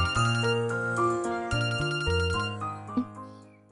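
A melodic phone ringtone plays loud and close, a repeating tune of bright chiming tones filling the whole stretch with no talk over it.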